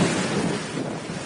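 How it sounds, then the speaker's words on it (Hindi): Heavy rain and strong wind from Cyclone Nisarga making landfall in Mumbai, a loud continuous roar of wind and downpour filling the whole moment. "वहां पर तेज बारिश हो रही है"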